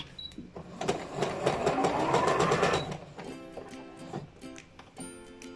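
Sewing machine stitching a difficult fabric, a rapid rattling burst of needle strokes for about two seconds, then a few short, hesitant bursts with clicks and handling noises in between.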